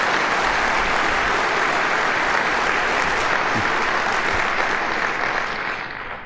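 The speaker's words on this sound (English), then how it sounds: "So one more round of applause for PHP." A large conference crowd bursts into sustained, dense applause, loud and steady as a wash of clapping, fading slightly toward the end.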